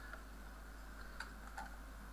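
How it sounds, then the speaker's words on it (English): Computer keyboard being typed on during a coding session: a few faint, sparse key clicks over a quiet background hum. "let me type it"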